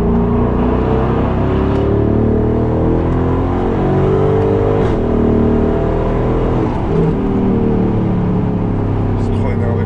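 An 850-horsepower Brabus, a very heavy car, accelerating strongly on the road: a loud, deep engine roar and rumble rising and falling, with people talking over it inside the car.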